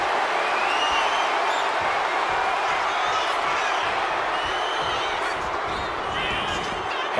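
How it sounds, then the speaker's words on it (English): Arena crowd in WWE 2K26 roaring for Triple H, a dense, steady wall of cheering and noise that holds loud throughout without letting up. "Triple H drawing a big reaction from the crowd."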